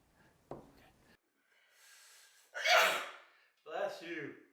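One sharp sneeze bursts out indoors during a tabletop craft session framing a photo cabinet card, preceded by a quick gasping breath and faint rustling, then a voice speaks up right after.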